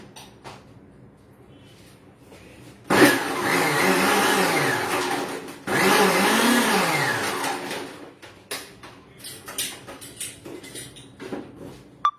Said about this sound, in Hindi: पहले आप थोड़ा सा डाल के चर्न कीजिए।